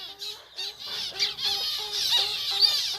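Lovebird parrots in a breeding aviary squawk in a dense, overlapping chorus of shrill, rapid calls, loud and close, continuing without pause.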